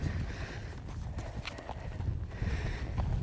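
Horse hooves clip-clop during a riding transition in sit trot, a run of irregular thuds heard at a moderate distance against background noise, with no talk.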